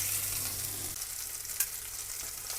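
Beef cheeks dusted in flour sear in a hot pan, giving a steady close sizzle with a brief louder pop partway through and no voices.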